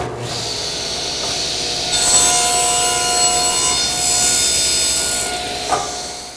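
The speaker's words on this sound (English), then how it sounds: "I made a pass through the saw blade to create this kerf" A table saw blade cuts a kerf through a wooden fence: a loud, steady high-pitched whine of the spinning blade, rising as the wood is fed through for a few seconds, then spinning down alone.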